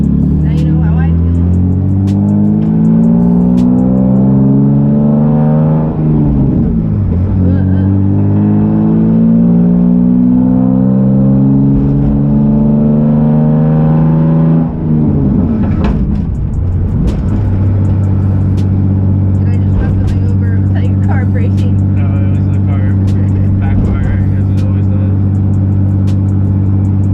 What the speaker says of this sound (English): This car's so much louder over here. All I hear is from my right ear, the exhaust.